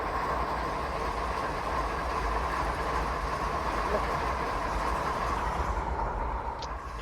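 A train runs in a video game, a steady rolling rumble with a constant mid-pitched hum and faint clatter, even and continuous throughout with no voices.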